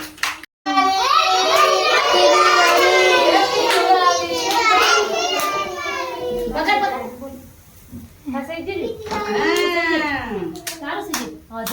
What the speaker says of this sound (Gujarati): તો તાળી પાડો.